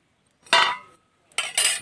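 Metal clinks and scrapes as oil is spread around the inside of a large metal tiffin box for baking a mango sponge cake, two short bursts of clattering close by with a pause between.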